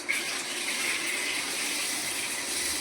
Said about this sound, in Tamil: பாதி அளவு பால் ஊற்றிப்போம்